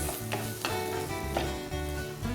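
Finely chopped onion and celery sauté in a pan, a soft steady sizzle sitting beneath a prominent tonal background hum with a few light scrapes of stirring.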